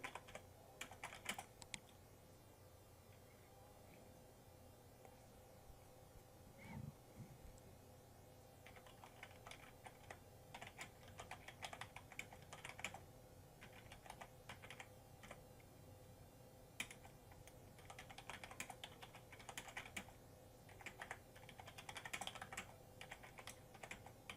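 Steady typing on a computer keyboard, fairly quiet keystrokes in irregular bursts across the whole stretch, with no voices.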